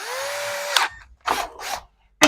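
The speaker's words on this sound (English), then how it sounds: "We get our pilot drill." Pilot drill boring into a wooden kitchen base unit side panel: a sustained whining run that cuts off sharply, followed by several short bursts of drilling separated by brief pauses, close and fairly loud.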